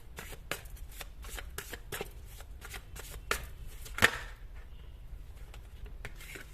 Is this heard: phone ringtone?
no